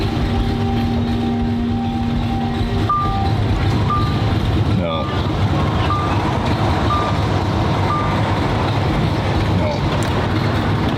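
A Lamborghini engine cranks slowly and fails to start. A steady, strained starter whir runs throughout, with repeated electronic warning chimes, and a voice briefly speaks over it.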